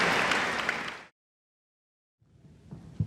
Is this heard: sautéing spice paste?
no